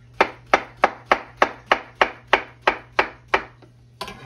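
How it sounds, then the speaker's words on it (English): A knife slicing bananas against a cutting board gives about eleven crisp, evenly spaced taps in a quick steady rhythm, close and clear with no talk. "Bananas are sliced and ready."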